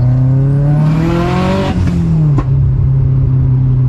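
Subaru STi accelerating hard on a road, a loud close engine roar climbing steeply in pitch through the gears, with a brief shift dip and a sharp click before settling into a droning note.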